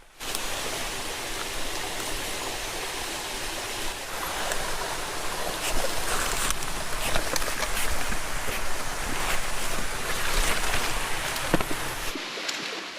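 Steady rushing of clear stream water spilling below a small waterfall, a broad continuous wash that holds level and swells slightly midway before cutting off near the end.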